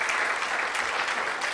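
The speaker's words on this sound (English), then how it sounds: "Another round of applause." Steady applause from a crowd, dense continuous clapping that holds at an even level throughout with no pauses.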